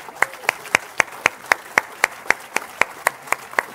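A congregation clapping in unison during a French-language church service, sharp, evenly spaced beats about four per second, close and loud, with no talk over them.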